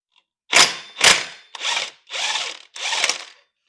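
Power tool working on the clutch of a Scag zero-turn mower: five loud, close bursts of whirring drill or impact driver, each about half a second, separated by brief pauses, with no talking.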